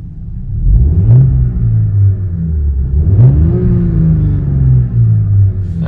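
An Audi S5 B9 with an iPE exhaust, valve closed, revs three times in sharp rising bursts over a deep, steady idle rumble, heard close and loud with no talking.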